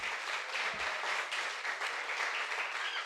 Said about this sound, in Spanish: Dele un fuerte aplauso a nuestro Dios.